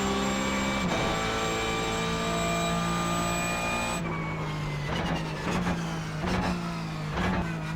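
Porsche 911 GT3 Cup race car in iRacing, engine howling at high revs, then pitch dropping abruptly under hard braking into a hill chicane, followed by a series of rhythmic downshift blips, loud and close with no voices.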